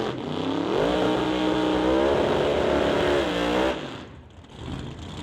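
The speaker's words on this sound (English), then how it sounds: "High rev and burnout for Dale Jansen in that wicked Acadian" Supercharged Acadian drag car at a drag strip raceway, engine held at a loud, sustained high-rev roar during a burnout, pitch rising then falling before cutting off into quieter background noise.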